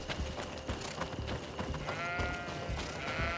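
Sheep on a farm in the video game Greedfall bleat repeatedly over a busy backdrop of clattering game sounds, with a wavering bleat rising toward the end.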